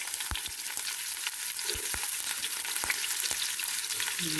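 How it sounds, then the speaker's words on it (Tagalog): Onion sautéing in a pan alongside bottle gourd and sardines, a constant crackling sizzle broken by occasional sharp taps of a utensil against the pan. "Igisa muna natin siya. Isunod na rin natin ang ating sibuyas."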